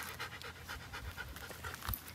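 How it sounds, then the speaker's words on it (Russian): A dog pants rapidly and close by while children play with the local dogs outdoors in Bavaria, a quick steady run of breathy huffs with faint background sounds and no clear speech. "Дети тут играют с собаками"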